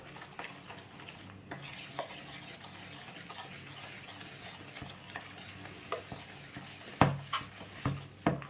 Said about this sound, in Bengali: এখানে এটাকে মিশিয়ে নেব।